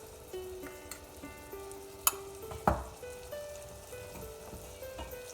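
Hing and turmeric powder frying over a low flame in a pan of oil for garlic curry, a steady close sizzle with a couple of sharp clinks of a spoon against the pan.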